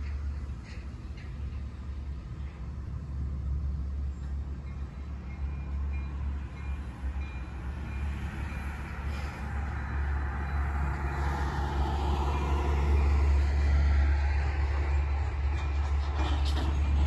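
A CN 5400 freight train backs up slowly and steadily at close range while switching in Pembine, a deep low-end rumbling drone with faint metallic creaks and squeals building toward the end.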